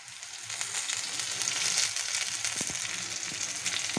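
A lentil tempering with coriander fries in a pan for paruppu adai, making a continuous close sizzling hiss with a few faint stirring taps and no talking.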